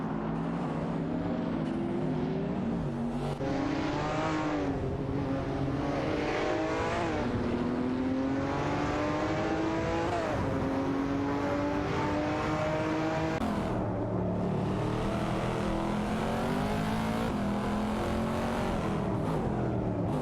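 Porsche 911 991 GT3R race cars in a racing game, engines droning continuously with rising and falling revs through repeated gear shifts, steady and close with no voices.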